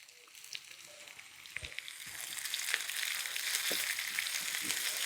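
Green chilies, dried red chilies and curry leaves crackle and sizzle in hot oil, the frying building from a light spatter to a denser, steady hiss with occasional sharp pops.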